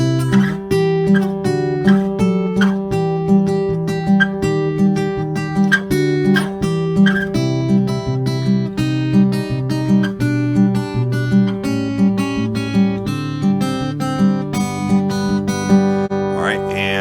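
Fingerpicked acoustic guitar plays the intro and verse of a song, a steady, flowing pattern of plucked notes over bass notes, close and even throughout, no voices.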